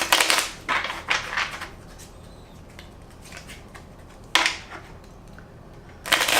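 Tarot cards are shuffled in several brief, crisp riffling bursts up close, separated by quieter pauses, with no voices.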